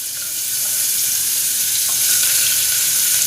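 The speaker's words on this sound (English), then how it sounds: "I'm going to add the onions now. We're going to let them brown." Chopped onions sizzle loudly in a hot pan for pav bhaji, a dense steady frying hiss close to the listener, with a faint stir or two and no talk.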